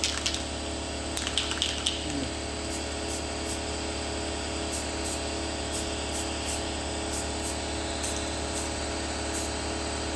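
Cheap flat black spray paint hissing steadily from a can close by for about ten seconds, with a few brief rattles near the start and no talk.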